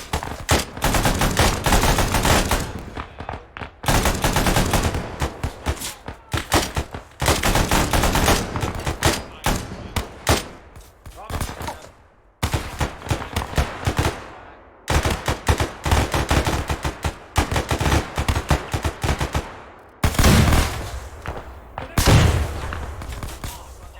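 Gunfire in a video game: loud, close bursts of rapid shots and automatic fire come in long runs separated by brief pauses, with voices talking at times between them.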